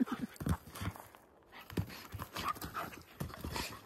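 A pet dog named Misha pants in quick, uneven bursts close by inside a trailer, with a brief quiet gap partway through.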